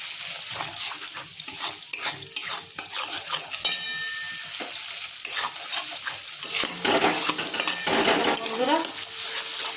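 Spice paste with Kashmiri chili powder fries in oil for a vegetarian eggplant curry, giving a steady close sizzle broken by spatula scrapes and metallic clinks against the pan.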